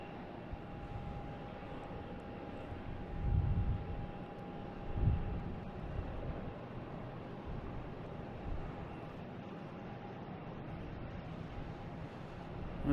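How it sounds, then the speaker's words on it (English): A JetBlue Airbus A320 arriving at Boston Logan from Orlando, a faint distant engine drone with low rumble swelling briefly, heard outdoors with light wind. "here's JetBlue coming in from Orlando, an A320"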